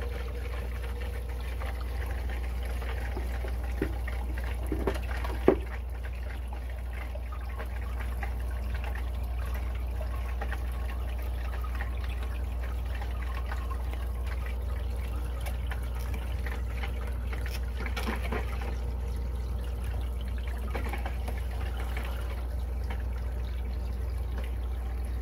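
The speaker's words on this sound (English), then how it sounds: "And maybe add a little bit more water." Water trickles and pours into a classroom aquarium tank set up for salmon, a steady soft splashing and bubbling flow throughout, with a few faint knocks near the start.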